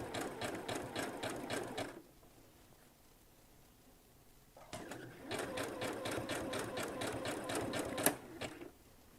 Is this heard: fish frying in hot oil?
no